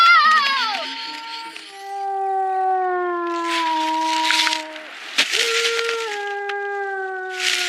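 Long, drawn-out wailing cries rise and slowly fall in several sustained sobs, loud and close, with short breaths between them.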